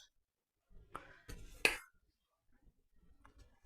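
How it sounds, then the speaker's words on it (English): A knife pokes into an air-fryer strawberry pudding in its dish, giving a few light clinks and taps against the dish, quiet and close with near-silence around them. "I think what I'll do is just pop my knife in."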